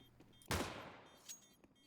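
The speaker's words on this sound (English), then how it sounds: "VSM taps him down with the P250 before he can swing the angle properly" A P250 pistol fires in a Counter-Strike match on the Ancient map, one sharp, fairly loud shot followed by a quick decaying echo and a fainter second pop shortly after, with no one speaking.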